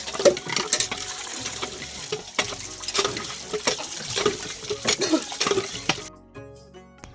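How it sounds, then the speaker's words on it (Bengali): Chicken being washed with tubewell water for a chicken roast, with splashing, clinking bowls and metal knocks in irregular bursts up close, then fading out. "আমরা চিকেন রোস্ট বানানোর জন্য সুন্দরভাবে জল দিয়ে ধুয়ে নিলাম"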